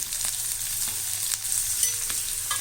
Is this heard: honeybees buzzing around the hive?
no